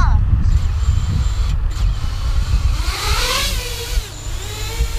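HobbyMate Comet RC plane motor spinning up for takeoff, a whining buzz that rises and sweeps in pitch over rumbling wind and outdoor noise.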